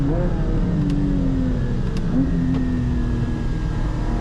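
A Porsche 718 Cayman GT4's 4-litre flat-six engine drones steadily on track, its tone rising and falling with throttle through a corner, heard loud and continuous from onboard.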